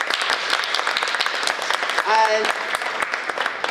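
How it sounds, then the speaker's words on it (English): An audience applauds warmly at a multicultural week event, with dense, steady clapping throughout. A voice speaks briefly over it, and a short whistle-like tone rises near the middle. "Please give her a big warm round of applause."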